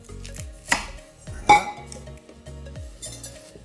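A kitchen knife chopping celery on a cutting board, giving a series of close, crisp chops with a few louder knocks and clinks, no talking heard.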